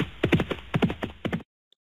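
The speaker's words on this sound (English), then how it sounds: "What sound does a horse make?" A horse's hooves clip-clop in a quick, irregular rhythm of close, loud thuds for over a second, then stop.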